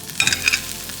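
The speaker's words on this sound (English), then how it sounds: "So we're just gonna let this stir fry in here." Bell peppers, onions, garlic and hot peppers stir-frying in olive oil make a brief, close sizzle with a few quick scraping stirs over a steady hiss.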